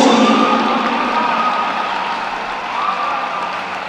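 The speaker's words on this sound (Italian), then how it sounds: "meritano veramente un vostro grande applauso" Loud, dense applause from a large audience with some cheering fills the space throughout, a steady roar of clapping that fades slightly toward the end.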